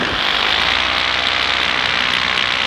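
Paramotor engine running steadily nearby as the throttle is worked, a loud continuous buzzing drone with little change in level over the few seconds.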